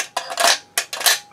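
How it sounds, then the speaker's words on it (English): Rifle rounds click into a KCI 75-round AK drum magazine in two sharp metallic bursts, close and fairly loud, with no voice over them. "So put these rounds in."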